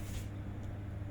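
A lawn mower cuts grass in the garden next door, its engine a steady, low, continuous drone heard faintly from a distance with no voices over it.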